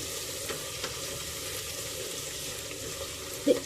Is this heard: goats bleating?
no